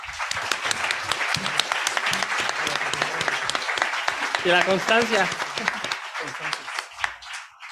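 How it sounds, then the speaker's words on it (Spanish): Audience applause for a district criminal judge at a legal argumentation forum, dense and sustained throughout, with a voice briefly speaking over it midway before the clapping thins near the end. "le brindamos un fuerte aplauso, por favor"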